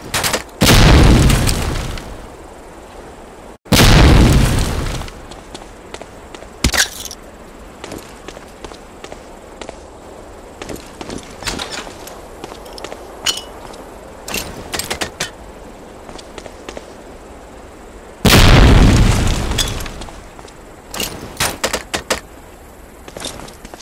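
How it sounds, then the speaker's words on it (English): Grenade explosions in Medal of Honor: Allied Assault, thrown into concrete boxes during a World War II mission: three loud, booming blasts spaced apart, with quieter footsteps and scattered game noises between them. "Throw a grenade into each of the concrete boxes."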